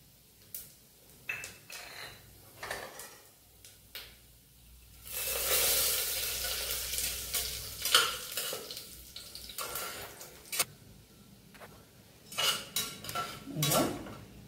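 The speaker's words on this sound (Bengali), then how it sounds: "এবার জিরেটা ফ্রাই হয়ে গেছে।" Cumin seeds frying in a pan, with quiet clinks and scrapes at first, then a burst of loud hissing sizzle midway that settles into crackling and utensil knocks, close by, without speech.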